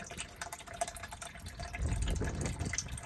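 Water sloshes and gurgles inside the fuel tank of a 1973 Pontiac Firebird, a faint, irregular liquid churning with some splashy bursts that grow fuller toward the end.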